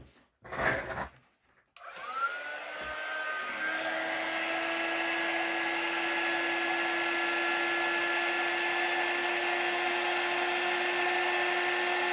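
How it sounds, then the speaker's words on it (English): A heat gun switches on at a crafting desk after some brief handling clatter, then runs as a steady blowing hiss with a faint high whine, close and continuous, with no talking. "Let me just get my gun. Heat gun."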